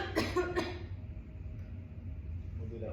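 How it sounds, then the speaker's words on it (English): One short, forceful assisted cough for a spinal cord injury patient bursts out at the start, after a deep breath with the neck extended, followed by quiet breathing and low background rumble. "breathe in, extend that neck, and then cough."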